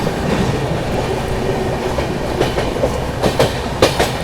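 Heard from on board the Poorva Express between New Delhi and Howrah, the train runs along the rails with a loud, steady rumble and clickety-clack wheel beats that come in quick pairs and grow sharper toward the end.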